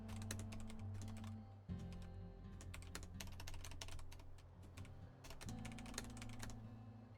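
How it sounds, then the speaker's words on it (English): Steady, rapid clatter of keys typed on a typewriter-style computer keyboard, close and continuous over a low background hum, with no talking. "Yeah, the keyboard does make good sounds."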